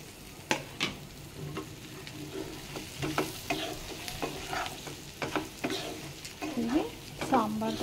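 Food frying and being stirred in a pan as eggs go in, soft sizzling under repeated scraping and clinking of a spoon against the pan, close and fairly quiet.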